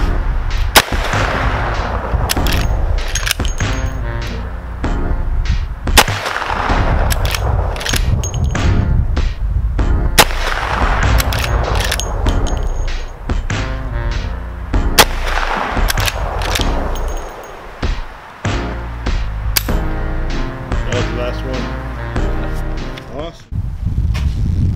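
Five or six loud, sharp rifle shots from a 16-inch-barrel rifle at an outdoor shooting practice, spaced several seconds apart, each cracking close then fading, with voices talking between shots.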